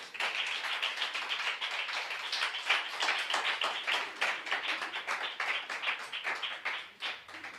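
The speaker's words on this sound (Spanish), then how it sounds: "Le da fuerte unas palmas a él." A church congregation claps hands in a fast, steady rhythm, many palms striking together in crisp repeated beats that carry on for several seconds without talk.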